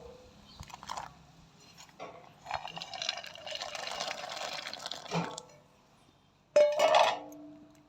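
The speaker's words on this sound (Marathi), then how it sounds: "पाणी आता छान उकळी फुटलेले पाण्याला आता याच्यात शेंगदाणे घालून घ्यायचे" Peanuts are poured into a pot of boiling water over a wood-fired chulha, a close rattling splash followed by bubbling and a spoon knocking on the metal rim, with no voices.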